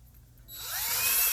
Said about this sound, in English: we're going to drill some pilot holes for our screws